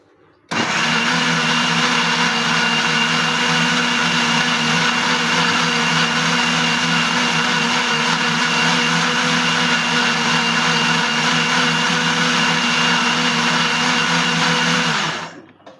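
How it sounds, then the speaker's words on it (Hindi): An electric blender whirs loudly and steadily for about fifteen seconds as it purées bottle gourd with a glass of water and black salt into juice, then cuts off abruptly. "अब हम इसको अच्छे से ब्लेंड करेंगे 1 गिलास पानी शामिल करके।"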